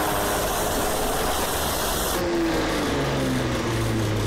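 Chevrolet Opala coupe engine in a GTA driving mod, a steady droning run with broadband hiss throughout, the pitch stepping up near the end as it revs, loud and continuous with no talking.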